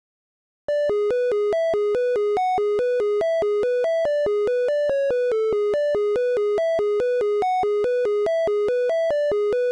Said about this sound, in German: Sie hören nun, dass der Sound aus dem Generator viel heller und definierter ist.